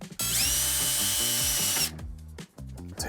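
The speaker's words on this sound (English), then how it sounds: "We're just going to remove these 4 screws. I did put on a square number 2 bit" A power drill fitted with a square number 2 bit whirs loudly and steadily for about two seconds while backing screws out of an RV roof vent shroud, then gives a few short bursts, close up with no talking.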